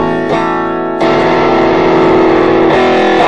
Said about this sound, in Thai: ตอนนี้เสียงแตกหลักเป็นยังไงบ้าง